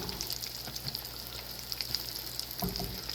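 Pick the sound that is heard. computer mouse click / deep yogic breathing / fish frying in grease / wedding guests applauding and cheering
fish frying in grease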